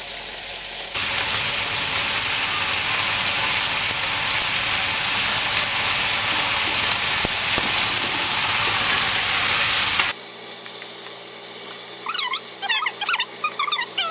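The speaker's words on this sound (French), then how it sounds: "Et il faut faire revenir la viande." Pork browning in oil in a pan makes a continuous loud hiss and crackle for about ten seconds, then the sizzle drops to a quieter background with faint chirps above it.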